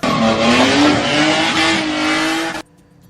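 A car drifts with loud, sustained tire squeal over a revving engine, close and continuous before cutting off sharply near the end.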